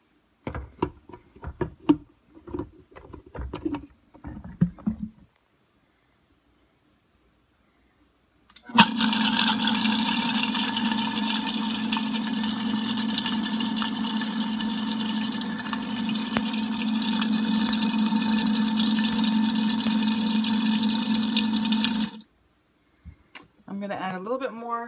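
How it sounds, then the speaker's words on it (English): A blender runs steadily for about thirteen seconds, blending a vegan butternut squash soup, with a loud, continuous whir that starts and stops abruptly; brief talk comes before and after it. "And I'll blend that up."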